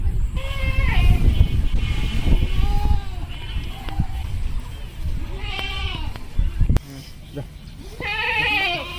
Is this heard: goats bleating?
yes